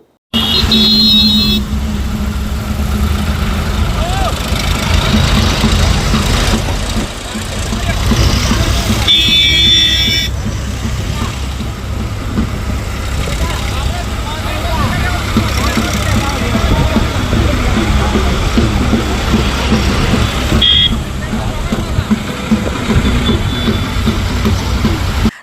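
A tractor carrying a Congress candidate and her supporters to a rally site in Banaskantha gives a loud, continuous engine rumble with occasional horn toots, and a crowd's voices are mixed in.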